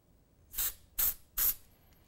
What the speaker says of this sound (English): So I just finished spraying the unique part to the teapot